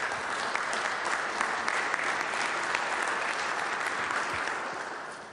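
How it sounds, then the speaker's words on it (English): An audience in a legislative chamber gives health care policy fellows a steady round of applause, dense continuous clapping at moderate loudness that tapers off toward the end, with no talking. "Let's give them a great round of applause."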